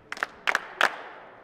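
Audience at a live performance clapping and finger snapping on cue in three quick bursts, each a short cluster of crisp claps and snaps, separated by brief pauses.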